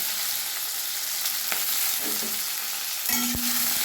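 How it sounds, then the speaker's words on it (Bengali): Tomato, halved medium potatoes and a little onion frying in a pan for Bengali chicken kosha, a steady broadband sizzle with a few soft stirring knocks and a brief louder clatter near the end, no talking. "এগুলো আমি ভেজে নেব।"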